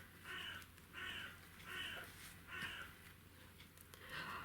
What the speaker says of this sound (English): I keep thinking those are crows, but I have noticed that there are some ravens going about.